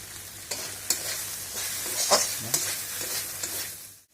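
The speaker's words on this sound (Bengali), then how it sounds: "এই এখন আমি একটু নেড়ে চেড়ে বেশ অল্প সময় ভেজে নিচ্ছি" Kharkol leaves fried with spices and stirred in a pan: a continuous sizzle broken by several sharp scraping strokes of the spoon, close and fairly loud, no talking.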